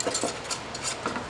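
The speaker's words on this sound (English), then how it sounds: "so I add the little flour in the beginning and mix it well" Flour being stirred into very hot butter for a roux in a pan, a soft repeated scraping and swishing of the stirring utensil with no talk.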